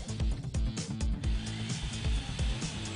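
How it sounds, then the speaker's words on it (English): Bosch GSB 162-2 RE Professional drill running during diamond dry drilling, a steady whining motor drone with rhythmic low pulses, somewhat faint. "Powerful in every application, even diamond dry drilling."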